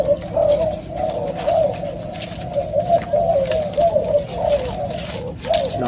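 A pair of doves coos continuously, close to the microphone and loud, giving a steady stream of soft, throaty coos over a busy background of rustling and other faint bird noise.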